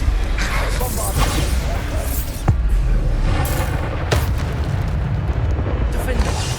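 Booming Bombarda spell blasts in Hogwarts Legacy on PS5, heavy explosive bursts and rumbling crashes layered with combat noise, one sharp impact standing out midway, while a voice shouts spell names throughout.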